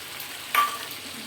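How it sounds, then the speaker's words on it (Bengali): Chopped tomato hits mutton frying in a pot and sets off a sudden sizzling burst that swells, then eases back into a steady frying hiss with faint stirring, and nobody speaks. "কেটে রাখা যে টমেটোটা সেটা আবার দিয়ে দেবো মাংসটার মধ্যে"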